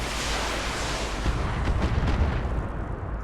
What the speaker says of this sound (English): Hey, the shredder turret got a few missiles in.